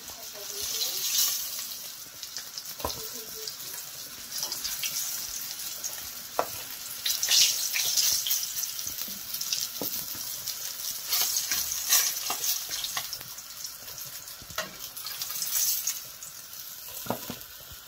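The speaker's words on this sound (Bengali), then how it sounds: "মাছগুলো ভাজা হয়ে গেছে, এখন আমি সব মাছগুলো তুলে নেব" Steady sizzling of pomfret frying in hot oil continues throughout, with occasional scraping and stirring clicks close by.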